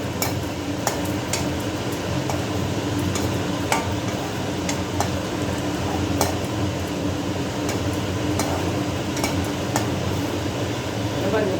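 Cashews roasting in a pan for Karthigai pori, a continuous dry rustle and sizzle with scattered sharp clinks and taps of a spoon against metal, close and steady throughout.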